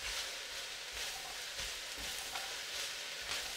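Chopped vegetables sizzle in a stir-fry pan for a chicken stir fry, making a dense, even hiss throughout with faint stirring scrapes and soft ticks mixed in.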